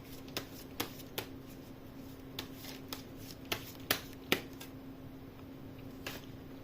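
Tarot cards are shuffled and drawn in a quiet room. Soft card riffling is punctuated by a handful of crisp snapping flicks, spaced irregularly over a faint steady hum, with no talking.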